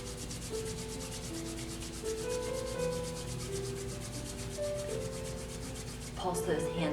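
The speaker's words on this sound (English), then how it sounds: "Rub those hands together," Hands rubbing briskly together to build warmth, a steady dry friction swish lasting several seconds with a brief louder flurry near the end, no talking.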